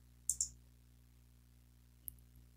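A computer mouse gives a crisp, close double click, two quick snaps in a row, and a single faint click follows a moment later in a quiet room.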